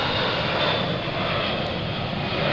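Loud, steady roar of C-17 Globemaster III jet engines as the transport aircraft turns around during an air show demo at an open house, a dense continuous wash of engine noise with no talk.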